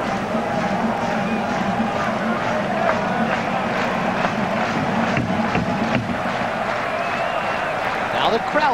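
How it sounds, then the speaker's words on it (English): Baseball stadium crowd at a 1997 Phillies vs Blue Jays game, a continuous broad roar of cheering and noise rising steadily, with a play-by-play announcer talking over it. "The crowd gets into it."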